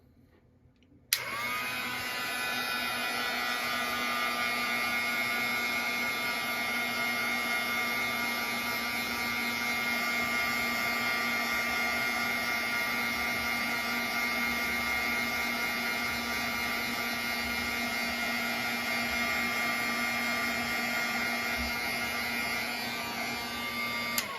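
A heat gun used for heat embossing switches on with a click and blows a steady, loud whirring roar with a constant motor hum, running unchanged and close for over twenty seconds with no talking.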